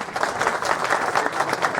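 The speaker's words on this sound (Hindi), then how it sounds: "एक बार जोरदार तालियां" Loud applause from a crowd at a police outpost inauguration ceremony, dense continuous clapping filling the short stretch without talk.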